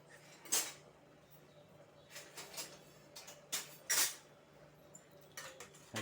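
Dry ginger powder and cardamom powder mixed in a bowl with a spoon: soft, quiet clinks and scrapes of metal against the vessel in a few short bursts, no talking.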